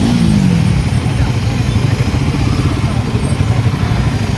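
A heavy Royal Enfield Himalayan motorcycle riding off-road gives a loud, steady engine rumble up close, with a brief rising tone at the start.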